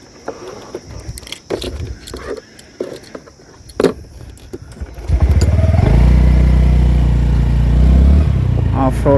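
A Honda Dio 125 scooter starts moving after some handling clatter, its engine building into a steady, close, loud drone as it rides off.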